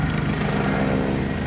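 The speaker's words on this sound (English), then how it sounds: "The choppers come down. That's what they do here." Helicopters flying over East New York give off a steady, continuous rotor and engine drone that holds at an even loudness throughout, with no talking.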